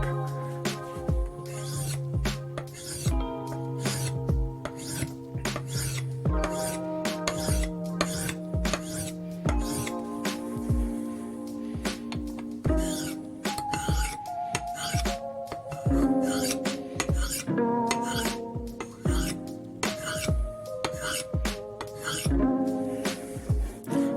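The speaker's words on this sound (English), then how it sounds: "So I'm going to go ahead and sharpen this thing up until it is sharp." A high carbon steel knife is drawn across a sharpening stone in a steady series of short, rhythmic scraping strokes, close and fairly loud, repeating without pause.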